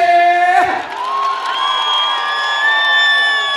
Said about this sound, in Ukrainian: Бурні аплодисменти!